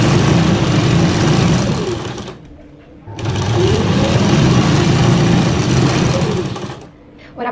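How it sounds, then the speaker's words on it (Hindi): An electric sewing machine stitches a fabric channel for a drawstring, running in loud steady buzzing bursts with a brief pause midway and another stop near the end. "उसके बाद हमें डोरी के लिए यहाँ पे सिलाई लगानी है।"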